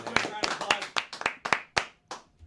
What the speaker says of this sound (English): since we mentioned Pat McAfee, I would like to just give my boy a round of applause right quick.